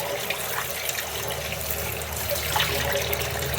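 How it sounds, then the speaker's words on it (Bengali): Carp fish being washed by hand in water, a continuous splashing and running-water wash with small sloshes and a slightly louder splash near the end, with no voices. "তো মাছগুলো ধুয়ে নিই ভালো করে।"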